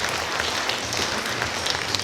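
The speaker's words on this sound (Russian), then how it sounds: "Еще раз давайте бурными аплодисментами встретим наших гостей на сцене" Steady, dense applause from an audience greeting guests on stage at a 50th anniversary celebration, continuous crowd clapping at moderate loudness without a break.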